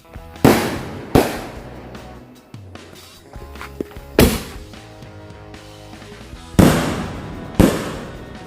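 Loud ball launcher firework bursts go off one after another, about six sharp blasts spaced a second or two apart, each with a crackling tail, outdoors with no talking.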